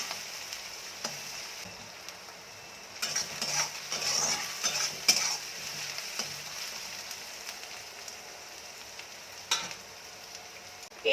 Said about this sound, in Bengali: পেঁয়াজটাকে আর একটু ভাজা করে নেব